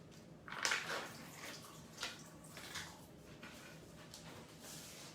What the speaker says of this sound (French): je te rince ça